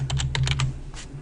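Quick bursts of keystrokes on a computer keyboard as a DVD title is typed, about half a dozen close clicks, then a brief pause and one more tap over a low hum.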